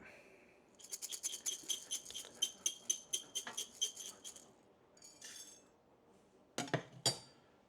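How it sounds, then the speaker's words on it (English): A whisk is worked briskly in a bowl, giving a quick run of bright metallic clinks in a steady rhythm, then a short pause, a softer scrape and a final few sharp clinks. "and we'll whisk it."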